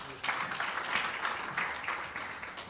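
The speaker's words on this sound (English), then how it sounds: "Big round of applause for him as well." An audience at an Arab business council event applauds a speaker coming up for a presidential address, a short burst of moderate clapping in a hall, slightly uneven and fading slowly.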